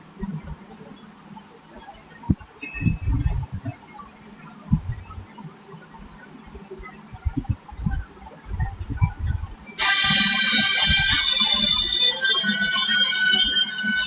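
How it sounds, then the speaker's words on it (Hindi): A phone ringing loudly with a bright, continuous tone that starts abruptly partway through and keeps going, following a stretch of a voice talking. "एक फोन आ गया"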